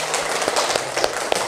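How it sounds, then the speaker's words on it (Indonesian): A class of children claps together in a classroom, a quick burst of uneven, overlapping hand claps. "Oke, tepuk tangan untuk kita semua."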